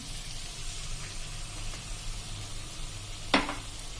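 Curd and onion curry cooks in a pan with a soft, continuous sizzle close by and one sharp knock of the spoon against the pan as it is stirred.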